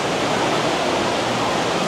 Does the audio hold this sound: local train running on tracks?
no